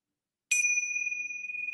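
A single clear chime, struck once to begin a breathing exercise, rings out sharp and bright after a brief silence, then sustains a steady, pure tone that slowly fades.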